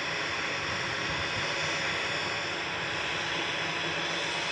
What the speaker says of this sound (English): TUI's TUKS departing to Pula now, flight 2686.